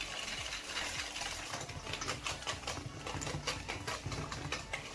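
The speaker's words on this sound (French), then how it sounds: "Allez, on fouette, on blanchit le tout." A whisk beats sugar into a mixture in a bowl for a lemon Saturn tart, giving a continuous rhythmic scraping and swishing at a quick steady pace, close by and moderately quiet, with no talking.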